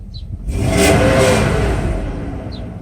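Mercedes S500 V8 freshly fitted with a new timing chain and guides, idling, then revved once with a swelling roar that holds briefly and eases back toward idle, close and loud.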